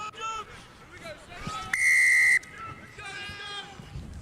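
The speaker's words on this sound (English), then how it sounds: "Wait for the whistle, huh?" A referee's whistle at the kickoff of a club rugby match, one sharp sustained blast of about half a second, sounding over crowd noise and nearby voices.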